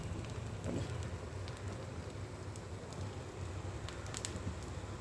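Moringa leaf adai frying in oil on an iron griddle, heard as a steady, soft sizzle with scattered crackles and pops and no talking.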